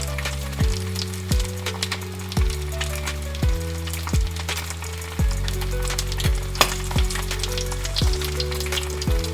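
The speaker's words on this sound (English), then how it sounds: "Now I am going to add 1 cup of sliced button mushroom and I am going to saute it again." Sliced button mushrooms sautéing in a pan, a steady sizzle broken by repeated scraping and stirring knocks at an irregular pace, close and fairly loud with no talking.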